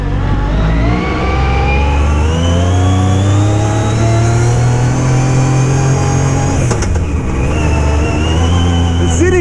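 A Yamaha YXZ1000R side-by-side's loud engine drones and revs steadily while driving, close and dominant, with wind buffeting and a brief change in pitch partway through.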